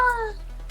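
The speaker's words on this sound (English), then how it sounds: "Kitty." A cat gives a single short, close meow that falls in pitch and fades over a steady low hum, with no talk.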